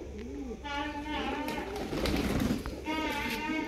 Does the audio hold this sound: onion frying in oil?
no